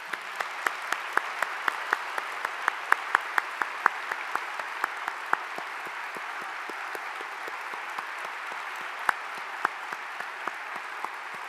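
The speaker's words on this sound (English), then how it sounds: "extend one last round of applause for our guest" An audience gives a steady round of applause for a guest at a Martin Luther King Jr. celebration, dense clapping sustained at an even level throughout.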